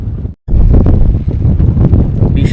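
Strong wind buffets the microphone on a river beside a fishing boat in rain, a loud rumbling roar broken by a brief silent gap.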